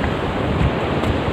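Ocean surf at a less developed stretch of Auroville beach near Pondicherry rushes steadily with a broad roar, overlaid by gusty wind noise on the microphone and no voices.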